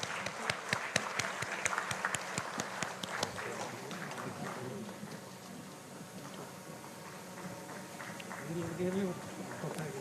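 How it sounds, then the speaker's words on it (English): Applause breaks out at an engineering society event in Karnataka, India, with several sharp, distinct claps at the start that quickly thin into scattered clapping, murmuring and room noise, with voices rising near the end. "please give a huge round of applause"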